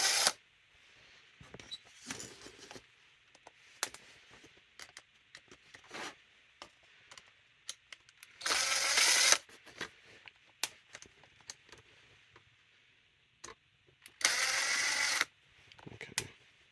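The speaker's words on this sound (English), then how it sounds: "these four screws have got to come off next." Screws being removed from the odometer cluster of a 1992 Dodge D150, with quiet clicks, scrapes and taps plus two short bursts of buzzing from a powered screwdriver, all close and faint, with long near-silent gaps.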